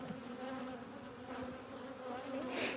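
Honeybees buzz inside a beehive opened for a midwinter inspection, a dense, steady hum from many bees close at hand, swelling slightly near the end, with no voices.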